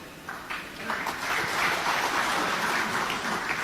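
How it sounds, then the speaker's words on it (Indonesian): A crowd applauds loudly and continuously on hearing Anies Baswedan named, a dense, sustained roar of many hands that swells after the first second and holds steady to the end, with little talk above it. "Itu tepuk tangannya sangat riuh sekali"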